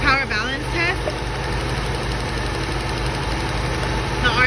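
An old Toyota engine idles rough with a cylinder misfiring, giving a steady uneven low rumble and knock up close, while someone talks over it at the start and end.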